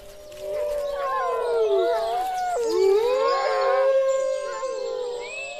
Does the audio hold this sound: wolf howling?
yes